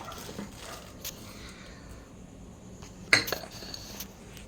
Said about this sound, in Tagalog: maghuhugas tayo ng pinggan